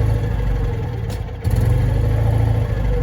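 Citroen 2CV twin-cylinder engine with a single-barrel carburetor, struggling and unsteady at idle: a close, loud, rough mid-pitched running note that dips briefly and then picks back up, with no talking.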